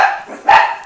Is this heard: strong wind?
no